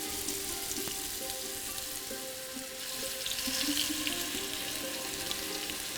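Spiced chicken pieces on the bone, skinned and coated in ginger, garlic and spices, fry in a pan with a steady close sizzle and crackle throughout, no voices.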